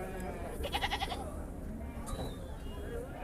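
Albad goats at the Dubbaka market, a clear bleat rising above a busy background of murmuring voices and crowd noise.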